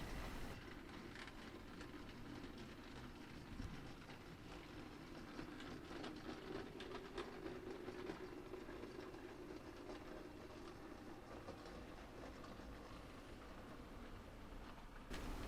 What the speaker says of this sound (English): This train is headed for the docks at either Portsmouth or Southampton.